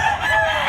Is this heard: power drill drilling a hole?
no